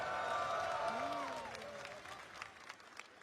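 A crowd at a fighting game tournament showcase stage cheers and claps, with an announcer calling out over the noise early on before the cheering thins into scattered claps.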